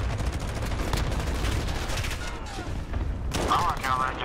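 Sustained machine gun fire in Call of Duty: Modern Warfare, a dense steady rattle of rapid shots through the whole stretch, with a few sharper bursts near the end and some speech mixed underneath.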